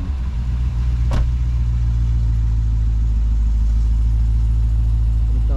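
Cars idling and slowly pulling away as a funeral ends at Auburn, with a steady low engine rumble close by and a brief louder rev early on.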